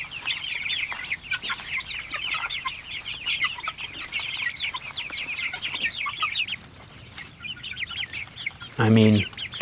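A flock of about 60 chickens on a small farm cluck and chatter continuously nearby, a busy overlapping sound, ending with one louder, sharper squawk close up.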